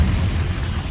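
A Confringo spell explodes in Hogwarts Legacy with a loud, low, rumbling boom that fills the whole second and slowly fades, with no talk over it.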